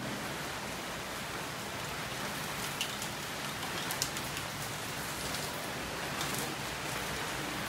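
Heavy rain storm pouring down in Orlando, Florida: a dense, steady roar of rainfall hitting surfaces, loud and continuous throughout, with scattered sharper drops standing out.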